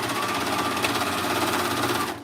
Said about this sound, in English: I'm just going to run it over my serger.